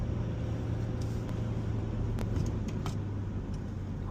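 A car stuck in first gear drives with a steady, droning engine hum that holds at one pitch, joined by a few brief clicks and rattles inside the cabin.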